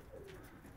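Pigeons in a loft, many perched on shelves, give a soft, low coo that swells once briefly over a quiet, steady background hum.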